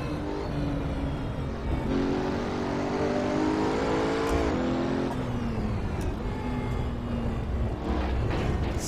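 A Pagani Huayra in Assetto Corsa on the Nordschleife, engine droning loud and steady at high revs with pitch rising and falling through gear changes, close and continuous without a break.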